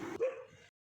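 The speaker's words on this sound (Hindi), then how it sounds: "और यहाँ मोहल्ले में कुत्ते बहुत सारे भौंक रहे थे," A dog in a residential neighbourhood gives one short, close bark that trails into a brief whine, with no other sound around it.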